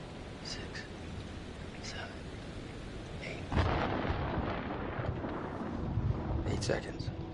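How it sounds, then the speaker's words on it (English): A thunderstorm rolls through the video game Man of Medan, a deep rumble of thunder swelling midway over steady rain-like hiss, with faint voices talking in the background. "Storm's 8 miles away."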